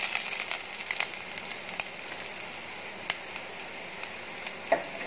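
Grated ginger and cumin seeds fry in hot oil with peppercorns in a pan for wheat rava pongal, giving a steady close sizzle broken by sharp pops and crackles, with no voices.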